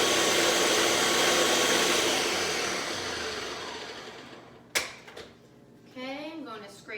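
A blender whirs loudly, blending avocado chocolate pudding, then winds down and stops. A clunk follows, then a short stretch of speech.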